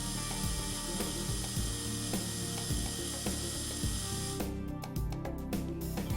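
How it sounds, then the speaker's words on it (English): A Calamus Flow dental obturation control unit retracts its handpiece plunger with a steady, close mechanical ratcheting whir, continuous for about six seconds and ending in a few sharper clicks, with no voices. "power up the control unit and press the return button to pull back the plunger"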